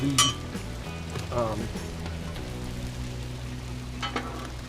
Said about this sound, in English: I'm going to move the corned beef over onto the cooler side as well.